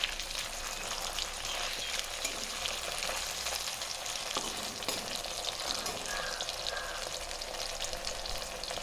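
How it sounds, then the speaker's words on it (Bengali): Pabda fish fry in mustard oil with a dense, continuous crackling sizzle that holds steady throughout at moderate volume, with no voices. "মাছগুলোকে আমি ভালো করে সর্ষের তেলে ফ্রাই করে নিচ্ছি।"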